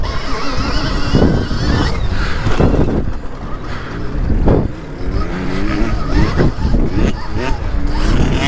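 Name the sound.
motocross bike coming up from behind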